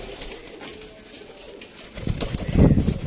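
Pigeons coo softly and repeatedly nearby in Sialkot, the low throaty calls swelling louder toward the end amid faint rustling.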